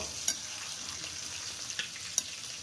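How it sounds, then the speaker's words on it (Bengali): Hilsa fish curry with eggplant simmers in a pan with a soft, faint sizzle, while a spoon gives a few gentle scrapes and taps during stirring; no one speaks. "আমি একটুখানি নাড়া দিয়ে দিই, কেন ইলিশ মাছ নাজুক তো"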